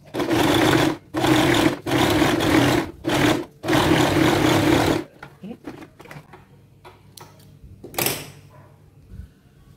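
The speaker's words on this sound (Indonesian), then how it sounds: "Oke, kita jahit ya guys." A sewing machine stitching a trouser pocket runs in several loud, rapid bursts separated by brief pauses, then stops; quieter handling clicks and fabric rustles follow, with one sharp knock near the end.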